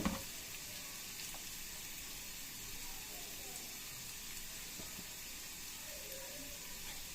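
Food frying in a pan on a home stove gives a faint, steady sizzle and hiss at a distance, continuous and without speech.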